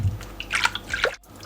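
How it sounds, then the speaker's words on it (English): Water is poured into a blender jar holding blended pepper to rinse it out, a short, close splashing pour with a few drips that ends abruptly. "Adding water into the blender just to rinse everything out."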